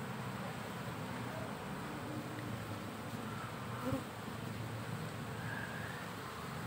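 Bees swarming and buzzing steadily and close while being moved from a trap into a cultivation hive box, a dense continuous drone with no talk.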